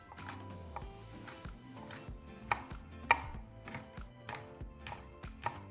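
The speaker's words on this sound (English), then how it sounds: "we're just going to cut our jalapeños in half moons" A knife slices jalapeños into half moons on a cutting board, giving quiet, irregular taps and clicks with a few sharper cuts amid soft background hum.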